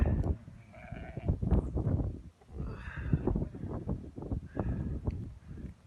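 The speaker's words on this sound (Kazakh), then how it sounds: "Қойларды қораға кіргізіп жатыр." Several sheep bleat close by while being herded into a pen during an April blizzard in Aktobe, their calls overlapping one after another over a low rush of wind.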